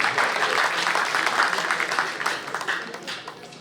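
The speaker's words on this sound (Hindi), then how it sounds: "इनके लिए जोरदार तालियां।" An audience at an Urdu mushaira poetry gathering in Toronto gives a round of steady applause, a dense wash of clapping that stays fairly loud, then thins into scattered individual claps toward the end.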